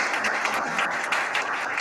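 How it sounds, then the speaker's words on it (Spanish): Audience applause at a Basque social economy network conference session, a dense steady clapping crowd heard briefly and at moderate distance, alone. "Y un merecido aplauso que suena ahí"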